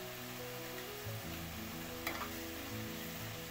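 Onion with tomato and salt sautéing in a pan for a dried bombil masala, a steady close sizzle with a few soft stirring scrapes partway through.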